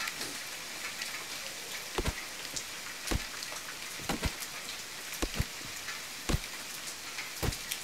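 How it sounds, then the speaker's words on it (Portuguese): Rain patters inside a house in the video game The Forest, a constant hiss of drops broken by sharper, irregular drip-like knocks every second or so, alone without any voices. "parecendo chuva dentro de uma casa"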